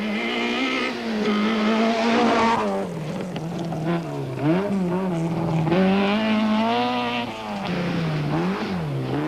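A rally car in the 1994 Volkswagen Rally pushes along a rough, bad-condition stage, its engine loud and close, droning continuously and swinging up and down in pitch as the driver revs through the gears.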